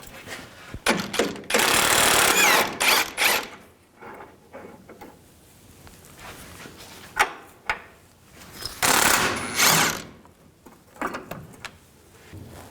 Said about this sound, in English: Use a 21mm wrench on the back side here and a 21mm socket. Take these bolts out.